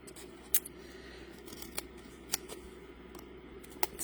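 Scissors snip through strips of 3D foam for card making, a few sharp, quiet clicks spaced irregularly over a soft steady background hum.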